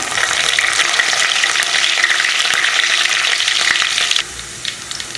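Fennel seeds, garlic and curry leaves fry in hot sesame oil, giving a loud, dense, close sizzle that holds steady, then drops sharply near the end.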